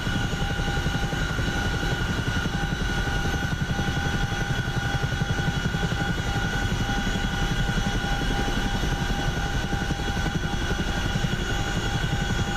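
An Apache AH-64D helicopter in the DCS World flight simulator gives a steady, loud rotor thrum and engine whine in a left orbit at low altitude. The sound stays constant and unbroken, with no talk.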